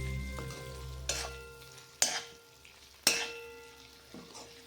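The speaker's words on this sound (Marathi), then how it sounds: "बटाटे यामध्ये तुम्हाला टाकायचे आहेत आणि हलवून घ्यायचं आहे तर याला चांगलं मिक्स करून घ्यायचं आहे" Chopped potatoes stirred into a sizzling spiced mixture in a pan for Marathi potato bhaji, with three distinct scraping stirs and a softer fourth over a steady close-up frying hiss.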